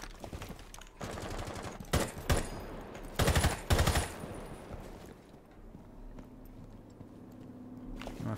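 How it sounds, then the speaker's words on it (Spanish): Automatic gunfire from Rainbow Six Siege rattles in several short, sharp bursts, with quieter footsteps and movement between the volleys. "estos son tiros de ellos"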